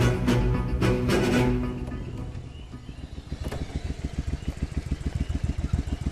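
A motorcycle engine idles inside a stable, preceded by a loud rumbling rev, then settling into a steady, close putter of rapid regular thumps.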